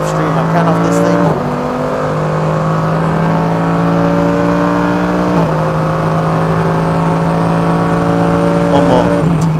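A Mercedes AMG GT3 race car powers along the Wuhan circuit, its engine a loud, close, sustained roar that climbs in pitch and breaks at two upshifts before pulling hard again.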